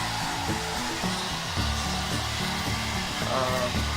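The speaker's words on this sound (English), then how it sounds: "Drying the hair." A hair dryer blows steadily while drying hair indoors, a loud, close, continuous whir with some music playing underneath.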